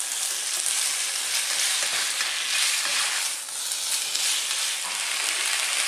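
Tuna steaks fry in a pan over just-below-medium heat, making a loud, dense sizzle that stays steady and close, swelling slightly as they are tossed, with no voices.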